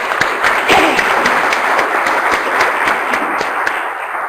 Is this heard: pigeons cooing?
no